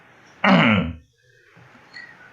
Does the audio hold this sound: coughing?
yes